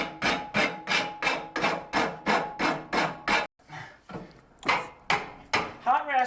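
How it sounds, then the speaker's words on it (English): A hot rasp files hot wrought iron in a blacksmith's forge, a loud rhythmic series of rough scraping strokes at a steady pace, with a brief pause before a few more strokes. "I use a hot rasp for many things"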